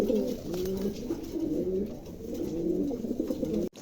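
Three large adult pigeons coo close by in a continuous rolling stream of throaty, repeating calls, loud and alone with no voices.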